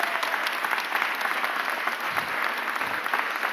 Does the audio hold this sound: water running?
no